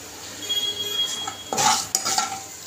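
Fenugreek and coriander powder being stirred through hot oil in a frying pan for a spicy black pea curry; steady scraping of utensil against pan, with a louder, busier burst of stirring midway over a low background hiss.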